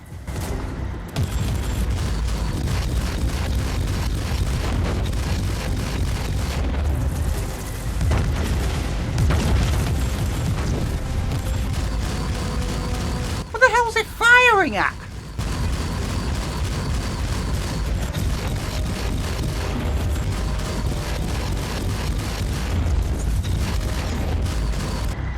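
A tank fires in the video game Warhammer 40,000 Inquisitor: Martyr amid a constant loud roar of booming blasts and battle noise, with a sharper burst of rising and falling tones partway through.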